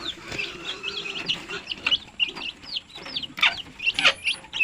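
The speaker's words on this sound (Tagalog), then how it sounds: "Ito po yung sisiw natin." Chicks and hens on a poultry farm cheep and cluck nearby, a busy run of high peeping calls with occasional louder clucks, moderately faint overall.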